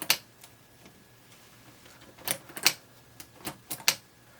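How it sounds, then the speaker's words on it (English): Keys on a LEGO typewriter tap out sharp, close clicks, first a few scattered ones and then a quicker uneven cluster near the end, with a quiet background between them. "This little part here moves up and hits this up here and makes a tapping noise."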